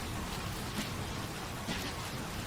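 Steady drizzle of rain on grimy city cobblestones in the video game Vaudeville, an even, soft hiss of falling rain with faint swells, continuous and alone.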